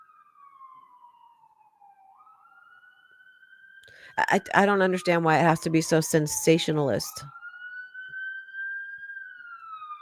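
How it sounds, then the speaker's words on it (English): Wailing siren sweeping up and down at a distance, audible before and after a stretch of close talk that partly covers it. "Can you hear that siren?"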